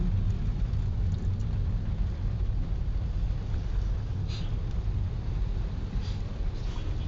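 Heavy rainy-day road traffic in Pasay toward Magallanes, a constant low rumble of car and vehicle engines with a dull wash of noise, steady and unbroken with no voices.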